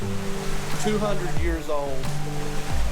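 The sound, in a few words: waterfall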